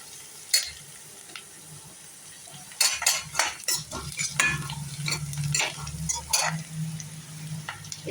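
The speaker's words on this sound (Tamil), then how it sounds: "இப்போ நம்ம வெங்காயம் வதங்கிட்டு இருக்குது" Onions sautéing in a pan for a mushroom pepper fry, with scattered stirring scrapes and clinks of a spoon against the pan over a low, steady sizzle.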